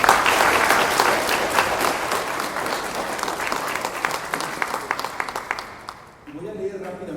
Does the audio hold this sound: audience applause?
yes